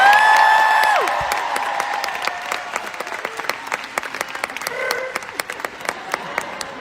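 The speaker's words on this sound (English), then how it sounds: "Give a massive, massive round of applause to Lauren," Concert audience applauding and cheering for performers at a live show; a sustained musical note fades early, then crowd clapping continues with some sharp individual claps standing out near the end.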